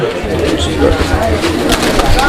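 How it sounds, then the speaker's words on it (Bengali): A male cream bar racer pigeon coos in low, throaty bursts close by, partly covered by people talking over it. "অরিজিনাল ক্রিম বার রেসার কবুতর"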